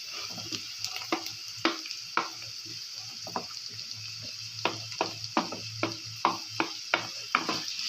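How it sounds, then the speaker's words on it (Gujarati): Chopped carrots and onions roasting in an upma pan give a steady soft sizzle, broken by repeated sharp scraping stirs at an irregular rhythm, close and fairly quiet. "ગાજરને બી ડુંગળીના જેમ આપણે શેકાવા દઈશું"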